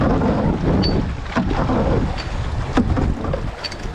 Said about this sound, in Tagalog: Paddle right.